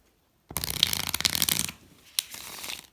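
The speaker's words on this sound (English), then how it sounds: "And give the cards a riffle shuffle." A deck of playing cards is riffle shuffled in two bursts: a long, dense ripple of cards flicking together, then a sharp snap and a shorter riffle. The sound is close and crisp, with no talking.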